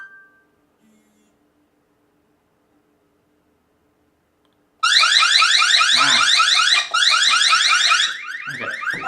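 After a few quiet seconds, a loud harsh electronic alarm from an Anker Eufy security camera blares, pausing once briefly, then continues with some knocking underneath.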